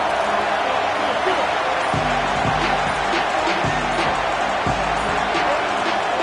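Stadium crowd roars in a college football video game, a dense, loud, steady wash of noise with a few dull low thumps underneath, and no talk over it.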